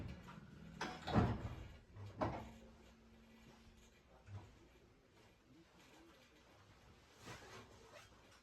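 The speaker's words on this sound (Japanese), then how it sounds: "番線ドアが閉まります。" On a Tobu 50090 series train, the doors slide shut with a couple of sharp thuds close by, followed by quieter rumbling and faint clunks in the car.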